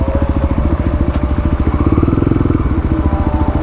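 A new Kawasaki KLR motorcycle rides by close and loud, its engine thumping in a quick, even pulse that swells slightly midway and then eases.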